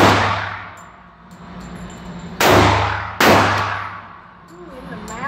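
Gunshots at an outdoor gun range in central Kentucky, three loud, sharp reports spaced a second or so apart, each ringing out and decaying slowly, with faint background voices between the shots.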